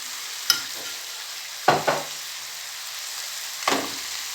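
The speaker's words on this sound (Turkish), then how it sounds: "Mutlaka karıştırırken şöyle tahta kaşığımızın arkasına da bastıralım." Eggplant filling for oven-baked karnıyarık with tomato paste, cooking in a pan and stirred and pressed with a wooden spoon: a soft steady sizzle broken by three distinct scraping strokes, close and alone.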